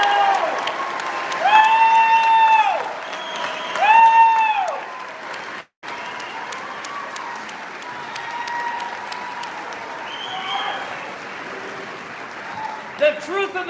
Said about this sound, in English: How about a round of applause for these graduates?